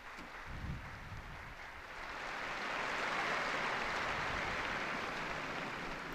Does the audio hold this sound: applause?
yes